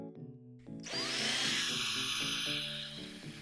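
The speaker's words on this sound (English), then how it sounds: "Gonna have to just drill a little bit in the hole." A small power drill bores into the plastic shell of a NES Zapper light gun, starting with a short whir and then running as a steady high-pitched grinding whine over a faint background hum.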